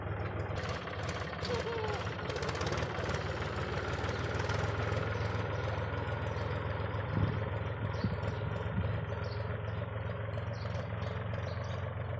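A tractor engine runs at a steady low drone on a village farm, with insect chirps and faint voices over the continuous hum.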